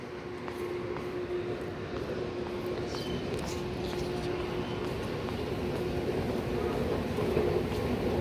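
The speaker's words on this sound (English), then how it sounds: "see when that metro arrives." A steady low rumble and hiss of a Sydney Metro train arriving at Epping station, with a faint sustained tone over the noise, constant and fairly loud throughout.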